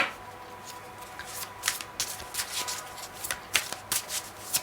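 Tarot cards being shuffled by hand, a steady run of soft riffling and papery slaps close by, with several sharper flicks scattered through, no talk.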